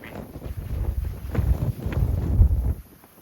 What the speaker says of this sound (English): whoa, it's windy.